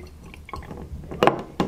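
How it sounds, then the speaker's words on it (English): Deionized water is poured into abrasive in a jug during a chloride field test, giving short, close liquid splashes and trickles that grow into two louder bursts near the end. "pour the 100ml into 100 grams of abrasive"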